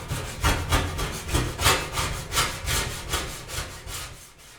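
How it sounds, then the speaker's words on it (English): A razor blade scrapes across an electric stove top in a steady series of short, rhythmic strokes, fairly quiet and close, with nothing else audible. "Razor blade."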